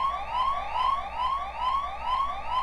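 Police car sirens wail in a video game, Disney Infinity 3.0, as a steady repeating rising sweep that cycles about every half second, loud and continuous with no talk over it.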